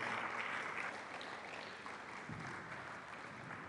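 An audience claps steadily in a dense, even wash of applause, fairly distant and sustained throughout.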